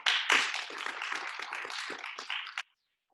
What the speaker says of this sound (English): Our next Mustang of the month, round of applause for Diego Ortiz.